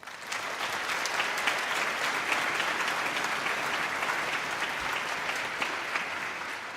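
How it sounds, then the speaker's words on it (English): Sustained audience applause at a bluegrass concert featuring a high school alternative strings program, a dense, steady wash of many hands clapping at even loudness throughout, with no speech. "So let's give a round of applause in their honor."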